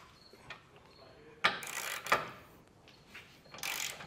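Socket wrench with a 3/4 inch socket snugging nuts on the bumper beam during a trailer hitch install on a 2020 Toyota Tacoma, giving a few close, sharp ratcheting clicks with quiet pauses between.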